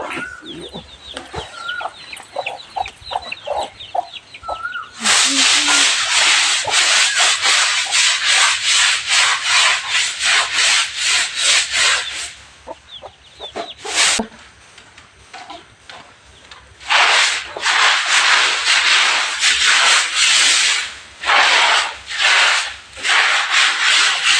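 Someone scrubs a floor with detergent powder in fast, rhythmic, loud brushing strokes that pause briefly, while chickens cluck nearby at the start.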